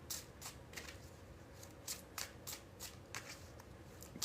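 A deck of cards is shuffled quietly and repeatedly, with soft riffling bursts coming in a steady rhythm over low background hiss, close by and faint.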